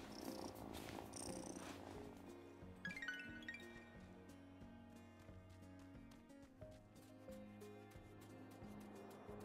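A cat purring steadily in the video game Wylde Flowers, a continuous low rumble running throughout with soft game music and chimes over it.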